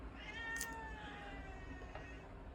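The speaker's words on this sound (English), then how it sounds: "as my cat cries in the background" A cat cries out with a drawn-out meow, faint and distant in a quiet room, followed by a shorter second call.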